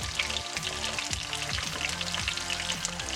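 Pakoras deep-frying in oil over a medium flame, a steady dense crackle and sizzle running the whole time, close and fairly quiet, with faint background tones and no talking.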